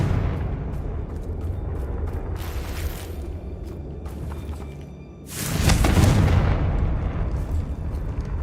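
A Confringo spell detonates in Hogwarts Legacy: after a low rumbling lead-in, a loud explosive boom erupts midway and rolls out into a heavy, sustained roar that fades slowly.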